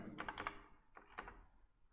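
Quick bursts of keystrokes on a computer keyboard, a cluster of four clicks followed by a short pause and two more, close and quiet with no talking.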